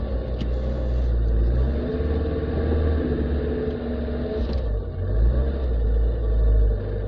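Engine of a left-hand-drive car rumbling steadily from inside the cabin while driving, a low continuous drone with slight swells in revs and no talking.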